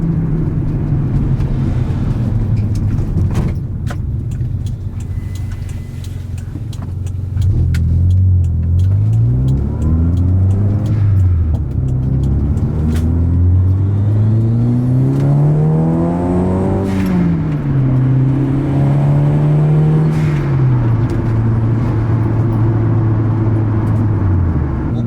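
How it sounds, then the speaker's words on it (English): Car cruising in 4th gear with sound deadening material installed, heard from inside the cabin as a constant road rumble and engine drone that rises and falls with shifting tone, loud and without speech. "This is the road noise, just cruising around in 4th gear."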